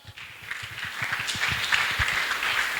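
A church congregation applauds during a sermon on the Holy Spirit, with a dense, steady patter of many hands clapping that holds evenly for about three seconds, fairly close and moderately loud.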